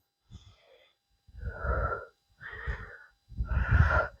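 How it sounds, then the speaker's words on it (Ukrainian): Heavy breathing during a dumbbell workout comes close and clear: a short inhale, then three strong, breathy exhales and inhales with brief silences between them. "Вдих, видих. Вдих, видих."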